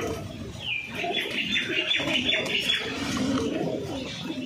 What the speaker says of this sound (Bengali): অনেকে গেরেবাজ পায়রা পছন্দ করে, গেরেবাজ পায়রা শখ করে